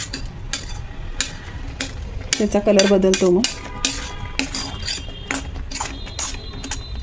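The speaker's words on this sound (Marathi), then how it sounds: "आता मधून मधून असं हलवत राहायचं।" Amla being stirred in a kadhai on the stove, a spoon scraping and clinking against the pan in short repeated strokes, with a voice briefly talking over it in the middle.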